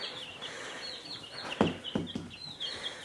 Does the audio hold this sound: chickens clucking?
yes